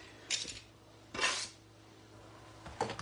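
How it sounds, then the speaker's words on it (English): Garlic drops into a frying pan of heating onions, giving a few brief sizzling, scraping clatters of utensil against pan separated by quiet gaps. "I'm gonna put the garlic in the pan next."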